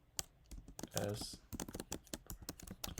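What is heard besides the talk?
typing on a computer keyboard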